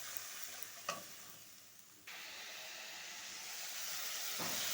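Spices sautéing in a pan for a tangra fish curry, with a little water from ground green chillies added: a soft, steady hiss and sizzle with one sharp clink and a surge of steamy frying partway through.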